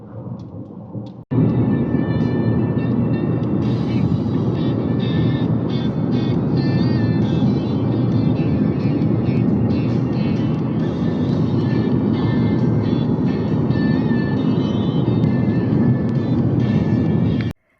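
A car drives along a road in Mexico, a steady, close, broad rumble of road and engine noise that starts abruptly and holds constant throughout.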